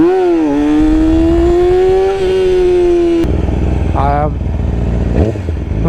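A Yamaha R6 sport motorcycle revs high in first gear on a lap, its whine climbing and holding before a shift and lower engine roar, close and loud with wind buffeting and clatter.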